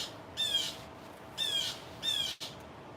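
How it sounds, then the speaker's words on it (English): Three harsh, raspy bird squawks spaced about a second apart, loud and fairly close, repeating an agitated alarm call over quiet background. "That's usually the sound of a bird saying, I don't like you kitties."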